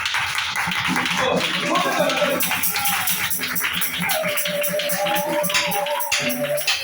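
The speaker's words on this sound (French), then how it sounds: "L'assemblée applaudit." An assembled audience applauds with continuous, fairly loud clapping that runs throughout, with voices and tonal sounds mixed in.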